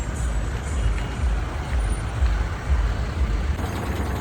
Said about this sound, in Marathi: खूप मोठी ट्रॅफिक आहे.